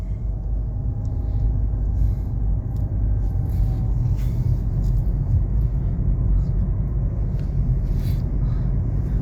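A car rolls along during a driving lesson, giving a steady, loud engine rumble and road noise that continues without a break, with no one speaking.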